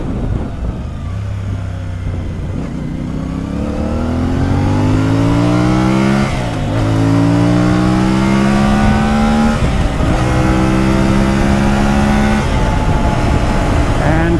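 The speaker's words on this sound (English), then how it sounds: "the sound of the engine is quite amazing. I did not expect this for a stock exhaust" A 2024 CFMoto 450MT motorcycle on its stock exhaust, loud and close, revving up through several gears in repeated rising sweeps that break off at each shift, under a steady drone of wind.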